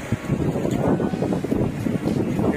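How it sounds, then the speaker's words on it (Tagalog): Gusty wind buffets the microphone in uneven rumbling bursts at a beach resort, with faint outdoor water ambience beneath. "mahangin naman dito"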